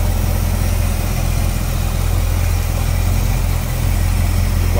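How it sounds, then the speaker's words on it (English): A 1967 Pontiac 400 V8 in a Firebird convertible idles smoothly and steadily, a close, even low rumble with a constant pulse and no voices. "it is from a 67, 400 Pontiac engine"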